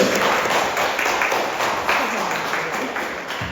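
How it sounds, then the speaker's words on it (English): A modest round of audience clapping at an autism awareness event for ethnic communities, fairly close and steady, mixed with voices talking over it throughout. "We haven't given a round of applause."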